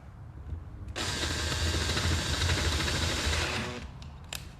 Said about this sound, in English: just drill down in the top of that hole just enough for that screw head